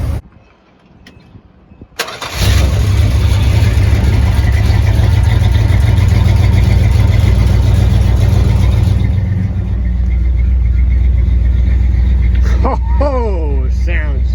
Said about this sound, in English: 440 Magnum exhaust.